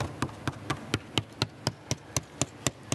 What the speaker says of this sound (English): see how I'm tapping this?